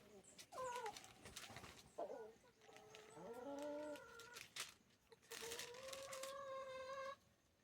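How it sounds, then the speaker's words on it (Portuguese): A rooster crows several times in drawn-out, quavering calls, loud and close, with other clucking fowl and a few short noises between crows. "O galo tá doido ali"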